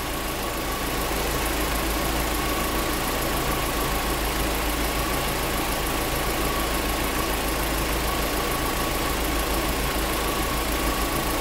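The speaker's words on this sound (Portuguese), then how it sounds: "Agora a gente vai deixar o carro funcionando, né, por um tempo aí, 10, 15 minutos." A car engine idles steadily and loudly up close, with a constant low rumble and a faint whine, while an air-conditioning additive is being applied. The engine hum holds even throughout, with no speech.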